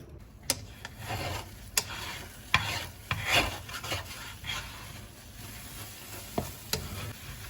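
Eggs frying in a worn non-stick frying pan, a steady close sizzle broken by scattered sharp pops and scraping clicks, with no talking.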